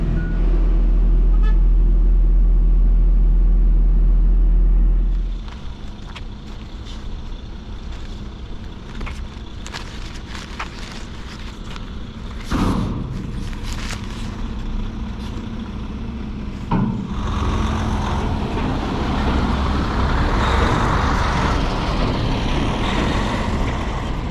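A wheel loader idles and works beside a non-CDL 10-yard dump truck, a loud low engine rumble at first that drops to a steadier mid-level diesel drone with scattered clanks and revving surges, heard from nearby.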